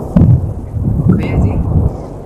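Deep rumbling thunder rolls through a heavy monsoon downpour, loud and close, with booming low swells over a steady hiss of rain.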